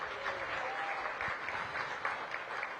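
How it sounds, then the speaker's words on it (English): A crowd applauds at a topping-out ceremony for the Cedar Hill Regional Medical Center in DC, the clapping sounding steady but rather faint and distant, with no speech over it. "please give them a big round of applause"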